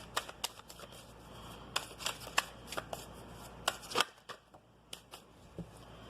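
Dark Mirror oracle cards are shuffled by hand at close range, giving quiet, irregular papery slaps and riffles in a soft room with no talking.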